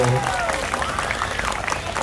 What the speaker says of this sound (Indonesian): Tepuk tangan buat kalian ya.